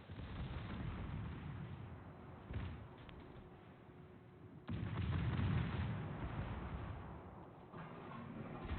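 Torpedoes strike and sink an enemy destroyer in a naval video game, heard as heavy muffled booms and rumbling blasts, with a sharp louder explosion midway followed by sustained low rumble.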